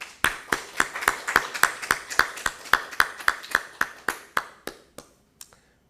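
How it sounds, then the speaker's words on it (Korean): Church congregation clapping in unison, about twenty sharp, evenly spaced claps at a brisk steady rhythm, fairly close and clear, tapering off and thinning out near the end. "박수해 주셔야 돼요."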